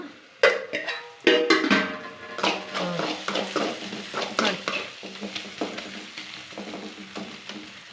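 Tomatoes frying in oil in a pan are stirred with a spoon, making a rapid series of close scraping and clacking strokes over a light sizzle, loud at first and then settling into an even rhythm, no speech.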